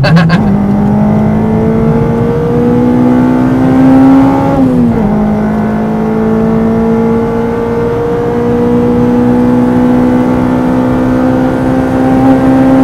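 A Honda Civic Type R EP3 with a remapped engine pulls hard in fourth gear, its pitch climbing steadily, dipping briefly at a gear change, then rising again in a long, loud, continuous roar.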